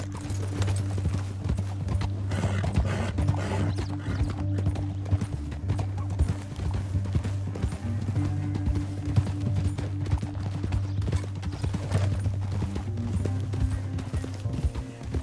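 Horse hooves clip-clop steadily at a canter in the Western game Red Dead Redemption 2, near and continuous over a low musical drone, with occasional faint speech.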